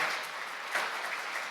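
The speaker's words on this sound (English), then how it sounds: "Don't you think he deserves another great round of applause?" An audience at a restorative justice community court graduation ceremony claps steadily for a full round, a dense, even patter at moderate distance with a brief swell partway through.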